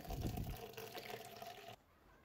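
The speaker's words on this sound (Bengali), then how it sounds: "ধুয়ে জলটা ফেলে দিয়ে আমি ডালটাকে একটু একটা শুকনো থালার মধ্যে" Rinse water from washed dal is tipped out in a steady, fairly faint splashing pour for under two seconds, then cuts off to quiet.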